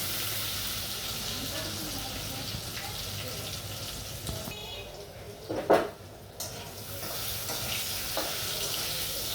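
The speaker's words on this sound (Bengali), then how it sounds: "আলুটি আমি ভালো করে ভেজে নেব।" Potatoes frying in oil in a pan, a steady broadband sizzle throughout with a few brief clatters of a utensil against the pan midway.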